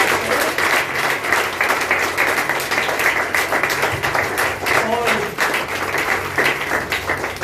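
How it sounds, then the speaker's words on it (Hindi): Congregation in a church clapping loudly and continuously in thanksgiving, dense rhythmic hand claps filling the space while a voice speaks briefly over them. "आइए हम जोर से तालियों के साथ हमारे प्रभु का धन्यवाद"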